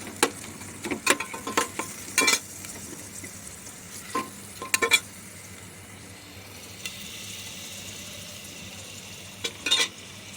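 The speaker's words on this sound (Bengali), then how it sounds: "তেলে ফ্রাই করে দিতে হবে আগে।" Onions fry in oil in a pan for a mutton gosht dish, with a faint background sizzle under repeated sharp scrapes and clinks of a spatula stirring against the pan.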